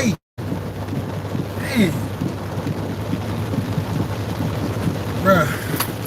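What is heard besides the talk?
rain falling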